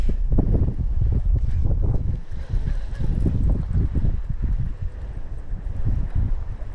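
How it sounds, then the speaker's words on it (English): Strong wind buffets the microphone while bass fishing from a boat, a continuous loud low roar and rumble that gusts without a break through the whole stretch. "Damn, that wind is whipping."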